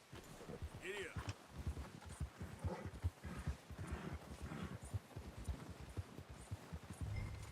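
Horse hooves clip-clop steadily on ground in the video game Red Dead Redemption 2, a rapid even gait throughout, under music and ambient game sound with a voice speaking.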